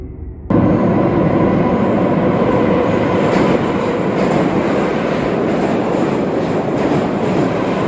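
A metro subway train rumbles loudly after an abrupt start, a dense continuous roar of wheels and carriage with faint rhythmic clicking, close and steady, with no voices.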